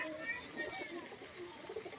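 Pigeons at a pigeon market cooing softly in the background, a low murmur of calls blended with crowd noise and someone speaking nearby.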